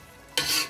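Carrots stirred in a pan for gajar halwa: a single brief scraping swish rises after a quiet start and fades, close and soft.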